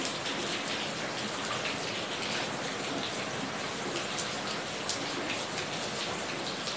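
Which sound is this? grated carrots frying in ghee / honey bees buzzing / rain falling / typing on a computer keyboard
rain falling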